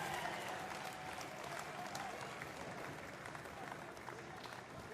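A crowd applauds a U.S. Navy powerlifter at the 2019 Department of Defense Warrior Games after a no lift. The clapping is soft, distant and continuous, with a murmur of voices underneath.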